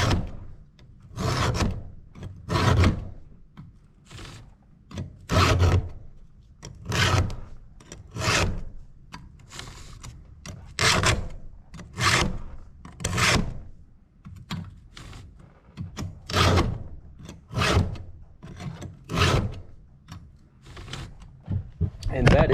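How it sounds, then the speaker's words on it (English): Hand file rasping across a chainsaw chain in steady rhythmic strokes, roughly one per second in counted groups of three, close and fairly loud, alone without talk. "That is all it takes to sharpen a chainsaw."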